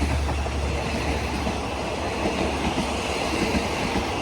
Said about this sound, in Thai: ทำขบวนรถเร็วที่ 172 นะครับ ต้นทาง สุไหงโกลกนะครับไปทางกรุงเทพนะครับ ผ่านจุดตัดทางด้านใต้สถานีบ้านโป่งนะครับ